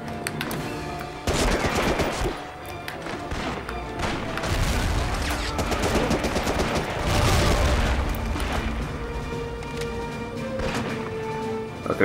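Gunfire in Medal of Honor: Rising Sun, Fall of the Philippines mission on PS2, with repeated bursts of rifle and machine-gun shots and booming impacts, loud and dense, carried over a steady background of game ambience.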